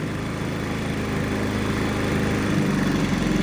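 Predator 3500 inverter generator engine running steadily at close range, a continuous loud drone with a slight rise in intensity toward the end and no talk.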